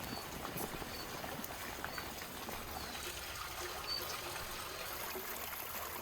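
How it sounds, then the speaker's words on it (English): Fresh onions are washed under running water for the Beshbarmak dish, making a steady soft trickle and splash with faint handling sounds, moderately quiet and continuous. "Now, let's wash the onions carefully."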